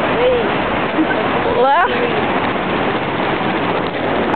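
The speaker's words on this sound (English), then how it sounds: "And there's the ocean." Ocean surf at Pismo Beach, a continuous broad wash of waves with wind buffeting the microphone, and a voice speaking briefly over it.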